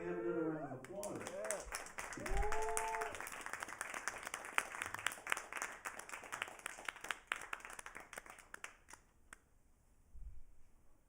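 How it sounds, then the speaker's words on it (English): Audience applause follows a call for another round at a live show, a dense patter of many hands clapping that swells, holds steady for several seconds, then thins out, with a few voices heard near the start. "Can we have another round of applause?"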